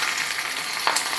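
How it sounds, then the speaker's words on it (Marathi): Green chilies dropped into hot oil for a green tomato chutney crackle and hiss loudly in a dense, continuous fry, with a brief burst of popping partway through. "तेल आपलं तापलंय तर तेलात मी सगळ्यात आधी मिरच्या टाकते."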